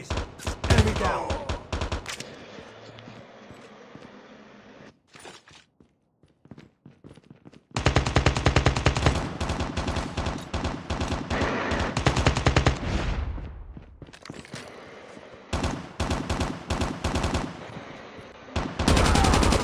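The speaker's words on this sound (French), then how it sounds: "Il est une mitraillette." Submachine gun fire in the Call of Duty Mobile video game comes as loud, sustained automatic bursts, broken by a couple of quiet pauses before the firing resumes.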